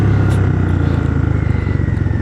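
A vehicle engine pulls hard in first gear through a sharp turn on a mountain road, a loud, steady low drone with a rhythmic pulse, heard close up and alone.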